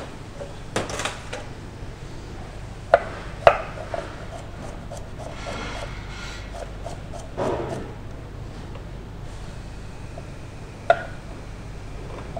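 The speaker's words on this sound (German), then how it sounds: "jetzt werden die Möhren noch geschnitten und zwar mache ich da immer so schräge Scheiben" A knife cuts carrots into diagonal slices on a board in a home kitchen: a few sharp, isolated cuts and taps spaced irregularly, with soft rubbing and handling noise in between.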